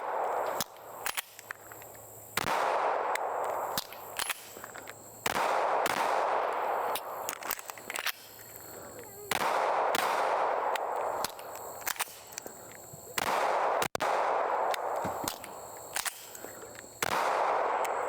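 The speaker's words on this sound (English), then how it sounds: "I'm just going to draw and shoot my gun until I have an issue that I can cross" Handgun fired at a shooting range during draw-and-shoot drills, single sharp cracks in short bursts with pauses between them, heard outdoors at a fair distance and with no talking.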